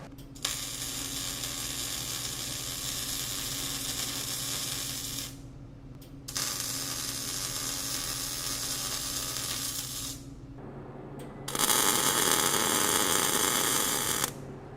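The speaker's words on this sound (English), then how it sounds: "We just want to put a little more weld in every slot" Steel welding table slots being welded, tab-and-slot fabrication; a steady crackling, sizzling arc that runs in long bursts with brief pauses between passes, loud and close with no talk.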